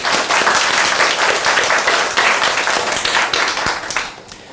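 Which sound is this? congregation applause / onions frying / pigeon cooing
congregation applause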